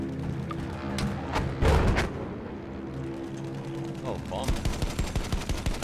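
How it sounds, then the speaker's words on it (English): In a video game, bursts of machine gun fire target an enemy bomber, rapid rattling volleys with heavy thuds and explosions, some loud and close, others in quicker, lighter streams. "Trying to shoot the bomber, yeah."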